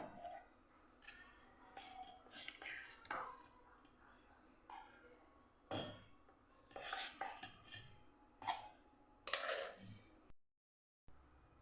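Sev dough being packed into a metal sancha press in a home kitchen, with scattered clinks, scrapes and knocks of metal and utensils in irregular bursts, close by, ending in a short silence.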